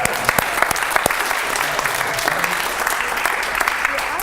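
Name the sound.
audience applause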